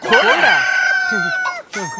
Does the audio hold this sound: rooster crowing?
yes